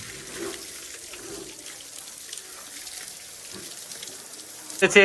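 Water is poured over newly plastered walls of a house under construction, making a steady rushing splash throughout that ends with a brief louder knock and clatter.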